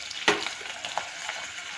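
Capsicum drops into a hot pan with onions and chilli garlic for chilli chicken, giving a sharp sizzle burst followed by steady frying crackle and faint stirring, close up, with no talking.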